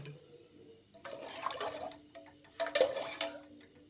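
Water is poured from a glass into a pot of lentils and meat for daal gosht, two short splashing gushes close by, separated by quiet clinks and drips.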